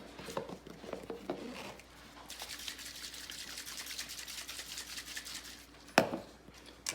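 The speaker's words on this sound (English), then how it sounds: "Good, and we'll shake that up." Homemade hand sanitizer of alcohol mix gets shaken in a bottle, a soft liquid sloshing and rattling heard up close, ending with a sharp knock.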